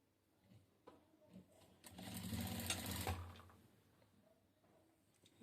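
A sewing machine stitches blouse fabric in a single quiet burst of rapid, even mechanical chatter lasting just over a second, preceded and followed by soft handling clicks, with no talking.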